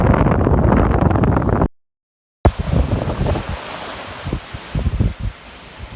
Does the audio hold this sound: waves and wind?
yes